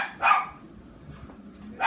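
A dog indoors at home gives two short, loud barks, one near the start and another near the end, with quiet room noise between them.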